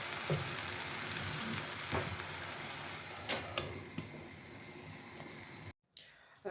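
Purslane fries in a pan with a steady close crackling sizzle and occasional stirring clicks, then breaks off briefly near the end before the sizzle returns.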